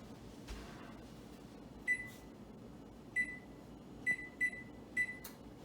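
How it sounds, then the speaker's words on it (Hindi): An oven chirps through a series of short electronic beeps while being set to preheat to 400°F: one, a pause, one more, then a quick pair and a final beep, each sharp and close over a quiet room hum. "अब मेरे को अपना ओवन 400 डिग्रीज फ़ारेनहाइट पे प्री हीट करना है"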